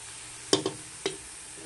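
Ground meat goes into a hot pan and is stirred, giving a couple of sharp sizzling bursts and a scrape over a faint steady background.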